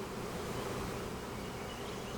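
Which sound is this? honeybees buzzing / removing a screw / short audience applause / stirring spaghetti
honeybees buzzing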